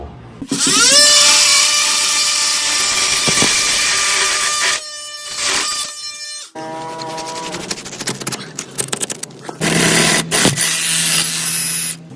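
A loud, high-pitched power drill whines steadily, stops briefly, then revs in bursts as it bores through a cavity wall, close to the listener.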